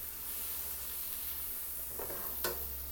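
Fried brown rice sizzles steadily in a hot pan, a close, constant frying hiss with a couple of brief louder crackles near the end.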